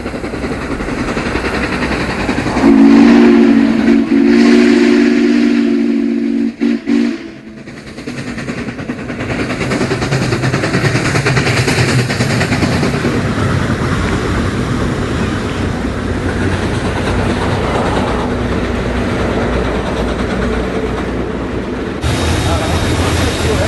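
A train rumbles past nearby, a long continuous roar of wheels and engine, with a sustained horn blast near the start.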